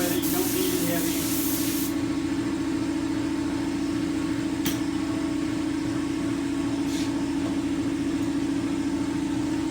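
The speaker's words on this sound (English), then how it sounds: "we'll fire up the airbrush and we'll start in doing some detail work." An Iwata LPH 50 airbrush sprays paint onto a Harley-Davidson fender, giving a steady close hiss over a constant low compressor-like hum, with a brief louder burst at the start and faint clicks.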